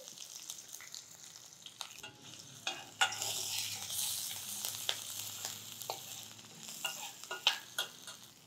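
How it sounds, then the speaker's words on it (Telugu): Cumin, curry leaves, green chillies and ginger fry in hot oil, giving a steady soft sizzle that swells louder midway, with spoon stirring and scraping clicks throughout, no voices. "జీలకర్ర వేగిపోయింది, కొంచెం కరివేపాకు వేద్దాము"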